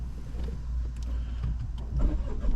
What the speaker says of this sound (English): if you want to start the vehicle